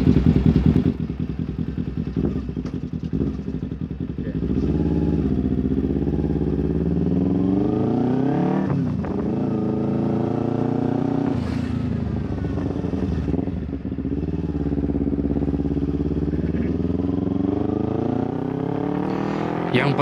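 A carbureted Kawasaki Ninja 250 motorcycle rides along, its engine rising and falling in pitch as it revs through the gears, loud and close, with a rider talking at times.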